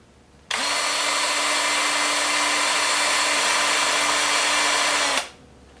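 A power sander works a wooden root ball bowl at close range, making one loud, continuous whine that starts suddenly, holds at a steady pitch for nearly five seconds, then winds down, with no speech.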